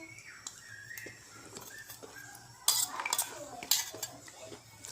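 Cutlery clinks and scrapes against a dish while someone eats a tangy snack of soaked chickpeas and tomato. The taps are light and close, with a few sharper clatters, and a faint low hum runs underneath.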